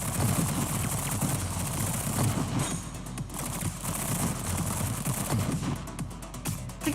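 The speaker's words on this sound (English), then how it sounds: "There's the artillery." Sustained artillery and gunfire in the game Girls' Frontline: a dense, continuous barrage of rapid, loud bursts with no pauses, filling the whole stretch without speech.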